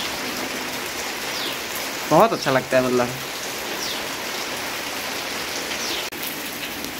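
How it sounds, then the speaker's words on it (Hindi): Steady rain pattering on leaves outdoors, a continuous even hiss throughout, with a brief spoken remark partway through. "जब पानी की बूंदें पत्तों पे गिरती है"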